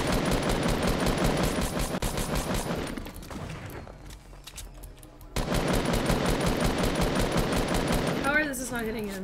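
Rapid automatic gunfire bursts from the Fortnite battle royale game, loud and continuous with a brief quieter gap, while players talk over the shooting.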